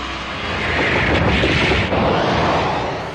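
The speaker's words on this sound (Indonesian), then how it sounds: "membuat sebuah ledakan di tempat itu" A loud, sustained explosion effect from a Dragon Ball Z anime fight, a broad roaring blast that swells and rumbles steadily for about three seconds as a burst of energy aura detonates, with no voices.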